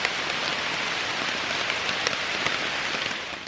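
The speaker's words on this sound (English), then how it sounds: "the raindrops tickling my tarp was a relaxing sound to assist my slumber" Steady rain pattering on a camping tarp in the woods of Red River Gorge, a dense, even hiss of close drops with a few sharper taps and no voices.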